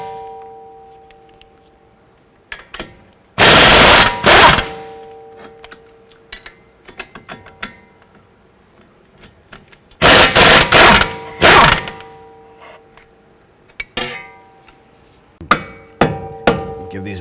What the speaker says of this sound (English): Using a 22mm socket and wrench, we're going to go ahead